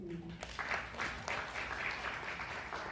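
Audience applause at an education forum, a fairly quiet spread of clapping from a seated crowd that rises and holds steady after a short start.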